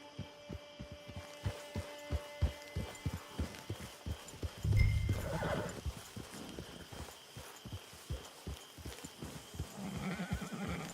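A horse's hooves clip-clop at a steady walking rhythm in the Red Dead Redemption 2 online mode, then a loud close whinny breaks through midway before the hoofbeats continue over a low hum.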